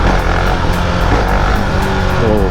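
A 2020 Husqvarna Vitpilen 701's 700 cc single-cylinder engine revs hard and steadily with a deep, thumping low-end rumble, loud and close, pitch climbing slightly as it accelerates.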